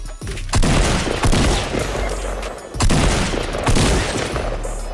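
Loud bursts of rapid gunfire crack out in Fortnite as a player guns down his own squad, two dense clusters of shots separated by a brief lull, close and punchy.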